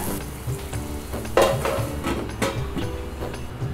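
Tomato masala for baida masala fries in a pan with a constant sizzle, marked by repeated stirring clatters and one louder scrape of a utensil near the pan; nobody speaks.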